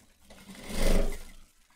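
A sewing machine stitches a ruffled chemise dress in one short run that swells up and fades away over about a second, close and alone.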